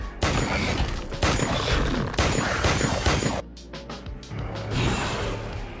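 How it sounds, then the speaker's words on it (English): Dense, loud crackling bursts of rapid gunfire fill the clip, with a brief dip before another volley of sharp shots rolls in. "she fired a burst."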